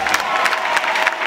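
A church congregation breaks into steady, dense applause at a deliverance service, a crowd of hands clapping loudly and continuously with a few cheers mixed in.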